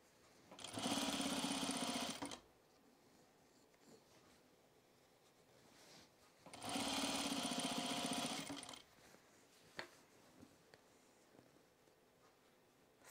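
A sewing machine flat-fell stitching heavy corduroy for a Sylvan jacket runs in two loud, steady bursts of about two seconds each, separated by quieter pauses with faint handling clicks.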